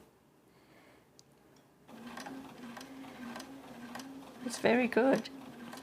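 A sewing machine quilting a plain block runs in a quick steady mechanical whir partway through, close and moderate, with someone talking briefly over it.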